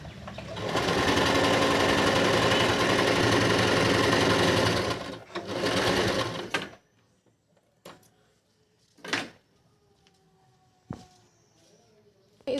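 A sewing machine stitches salwar fabric in a double seam, whirring steadily up close for about five seconds, pausing briefly, then running a short second burst before a few soft clicks and handling noises.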